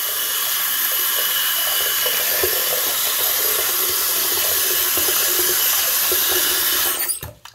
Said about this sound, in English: all you do is put water in it right now